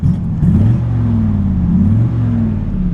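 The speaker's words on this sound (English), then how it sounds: "Great sounding exhaust." A 1954 Ford F-100 truck idles with a deep, steady exhaust rumble, and the engine blips up once in revs before settling back, close and loud with no voices.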